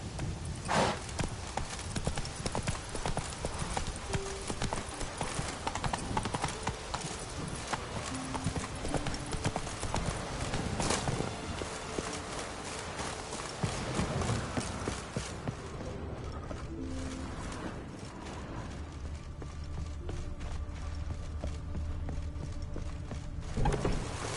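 Horse hooves gallop in The Witcher 3 on PS5 as a fast, continuous clip-clop close by, with ambient game sounds and a low hum beneath.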